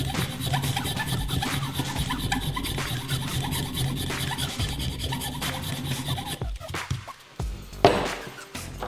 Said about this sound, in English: Square it up with the file.